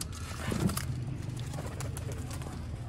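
Sialkoti pigeons coo softly in low, throaty bursts against a steady background murmur, fairly close, with faint voices in the background.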